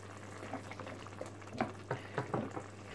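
Carrots are dropped into a pan of simmering beef sauté, giving soft bubbling and gentle sizzling with a few brief clattering stirs and plops near the end, faint and close under a low electrical hum.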